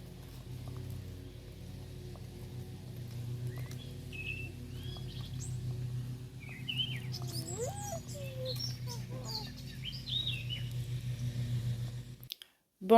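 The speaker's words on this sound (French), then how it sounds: "Tu entends les oiseaux?" Birds chirp outdoors on a warm summer morning walk with a baby, with short, fairly faint calls in scattered bursts over a steady low background hum, louder in the middle stretch.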